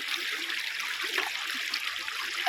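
Water flows steadily at a waterside spot in Germany, a continuous near rush of trickling water that stays fairly even throughout.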